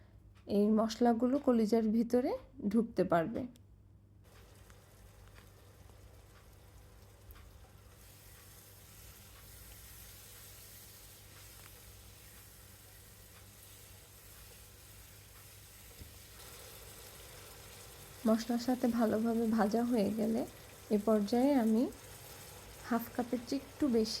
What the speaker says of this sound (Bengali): কলিজাগুলোকে আমি কিছুক্ষণ এই মশলার সাথে ভেজে নেব